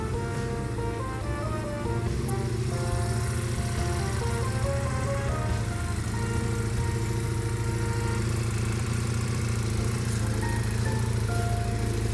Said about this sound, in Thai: เครื่องยนต์ เดินเบา นิ่ง ๆ นะครับ